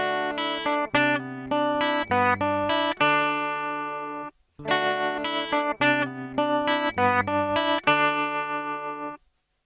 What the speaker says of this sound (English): Tremolo sounds like this.